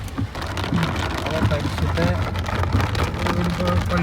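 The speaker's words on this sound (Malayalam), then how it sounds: "നല്ല മഴ കേട്ടോ കിഡില മഴ" Dense, steady downpour patters loudly on surfaces throughout, close and unbroken, with faint talk mixed underneath.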